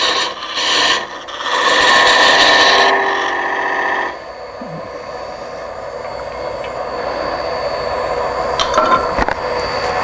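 Wood lathe turning a sphere with a roughing gouge, a loud steady rasping scrape for about four seconds, then a quieter, thinner cutting hiss and hum carrying on alone to the end.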